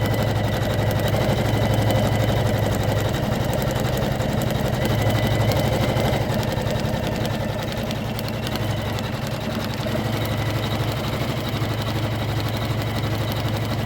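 A Janome MC500e embroidery-only machine runs alone with a steady, fast mechanical chatter and a low motor hum, its rhythm holding even throughout with no talk.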